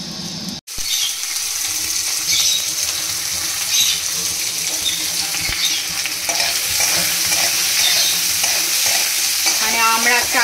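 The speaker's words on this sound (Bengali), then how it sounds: "এখানে কাঁকরোল ভাজা, বেগুন ভাজা, করলা ভাজা আর শাক ভাজা হবে।" Spiny gourd, eggplant, bitter gourd and greens fry in a pan, a steady close sizzle with stirring scrapes that runs the whole time without speech.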